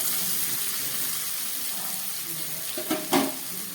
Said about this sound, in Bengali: দিয়ে দিচ্ছি একটু পেঁয়াজ ফোড়ন পেঁয়াজটাকে ভালো করে একটু ভেজে নেবো